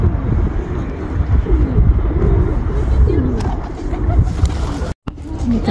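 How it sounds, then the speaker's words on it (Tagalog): Pigeons at a park cooing over steady outdoor background noise, their calls near and fairly clear, with a short dropout near the end. "Ang lalaki ng mga ibon."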